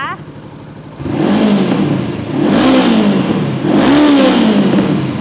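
A 2019 Honda CBR500R motorcycle engine revs up three times in succession, each rev rising and falling in pitch, loud and close.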